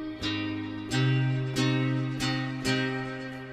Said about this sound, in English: what I want to add is it's kind of like a guitar synth type sound